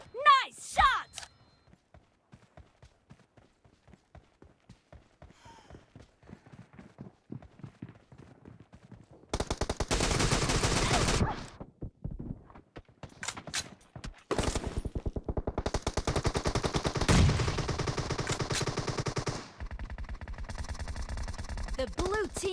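DMR rifle gunfire in PUBG Mobile comes as rapid bursts of sharp shots in dense clusters, with quieter single reports and footstep-like clatter between them. Loud, close, game-mixed audio.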